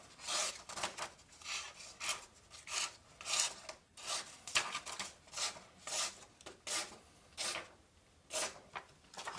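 A Kansept Integra knife blade rasps through wood in a run of short, rhythmic scraping strokes, about a dozen close-up slicing passes with brief pauses between them.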